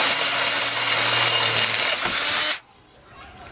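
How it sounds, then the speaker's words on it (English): A power drill bores a large hole through a steel trailer frame, grinding loudly and steadily up close for a couple of seconds before cutting out abruptly into near silence. "This is a pretty large holes that we're drilling through this steel frame"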